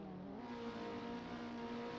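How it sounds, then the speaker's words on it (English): Several race car engines held at high revs on the grid just before the start lights, a dense, steady, sustained roar with layered engine tones and no talk over it. "Revs are up."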